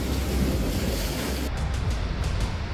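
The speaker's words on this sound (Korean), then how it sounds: "내가 하필 던진 곳이 너무 파도가 세잖아" Strong ocean waves crash and wash against the rocky shore of Ulleungdo, a loud, continuous roar of surf with wind noise close to the microphone and no talking.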